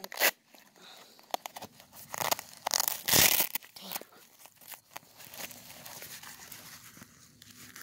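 Velcro on a Helikon-Tex EDC backpack being pulled open: several rough tearing rips, one long loud one in the middle, with crinkling fabric handling around them.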